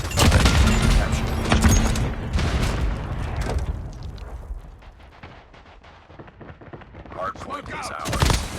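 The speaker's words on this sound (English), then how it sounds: "Hostile Predator missile inbound." Predator missile strike in the COD Mobile shooter game, a loud burst of booming explosions and gunfire-like blasts that fade into a rumbling lull before another heavy blast hits near the end.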